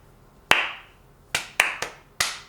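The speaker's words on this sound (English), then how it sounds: "he hears a slow clap" A single sharp clap, then a pause, followed by four more claps in a slow, uneven rhythm, close and crisp with a short ring after each.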